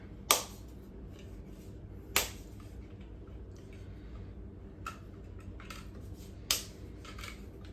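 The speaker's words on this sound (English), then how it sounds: "Then we're gonna add in some noodles. You might need to break them up a little bit" Dry lasagna noodles snap apart over a slow cooker, giving four sharp cracks spaced a couple of seconds apart, close and clear over a faint hum, with no talking.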